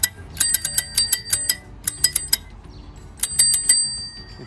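A vintage bicycle bell, its striker hitting the bell's drum, rings in three quick bursts of bright, rapid metallic dings separated by short pauses.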